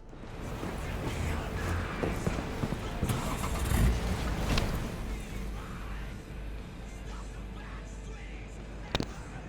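An engine turns over and a car pulls away in the video game Cyberpunk, the motor rumbling low and steady at close range, with a short sharp knock near the end.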